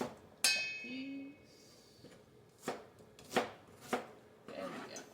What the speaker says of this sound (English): We're also going to do like a little medium dice on your onions as well.